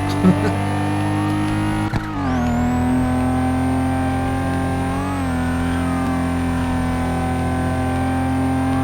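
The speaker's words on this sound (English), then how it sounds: "car spinning out." A Nissan Skyline spins out in a street-racing video game, its engine droning loudly and steadily as tyre and motor pitch dip and sweep, with other game engine noise underneath.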